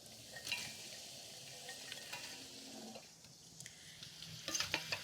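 Green beans hit hot olive oil with onions and peppers in a pan, giving a faint, steady sizzle with a few light clinks and stirring sounds near the end.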